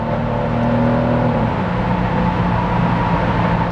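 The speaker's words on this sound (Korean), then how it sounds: "스포츠 모드에서는 일단 귀로 들리는 사운드 자체는 많이 달라졌습니다" A Genesis GV70 3.5T engine in sport mode gives a steady, loud, rich hum with low harmonic tones that shift slightly midway, running continuously and close by with no talking.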